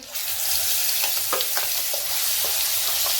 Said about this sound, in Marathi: मोहरी तडतडली आपण हा वाटलेला मसाला टाकू